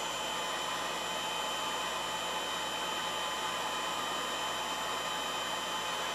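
Heat gun on low heat warming a cardboard tube during a Philco 38-62 radio restoration, a steady close whooshing blow of hot air with an even fan whine, alone and unchanging throughout.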